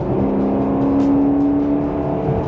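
A Ferrari Purosangue engine runs steadily while driving on an early-morning road, a close, continuous low drone with a faint whir on top and no voices.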